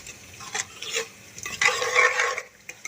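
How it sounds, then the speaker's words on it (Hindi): A spoon stirs a teaspoon of garam masala into dhaba-style aloo keema in a pan, a few close scraping strokes over a soft sizzle, with no talking. "अब हमने गरम मसाला डालना है इसमें 1 चम्मच और अच्छी तरह से हिला लेना है और मिक्स कर लेना है।"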